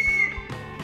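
A police whistle gives a short shrill blast, loud and close, lasting well under a second with no talk.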